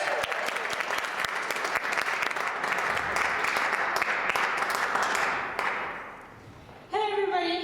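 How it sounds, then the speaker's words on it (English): A crowd welcomes a performer at an evening show with sustained, lively applause and a few sharp claps standing out. It fades after about six seconds, and a voice begins speaking at the end. "Let's give her a big round of applause."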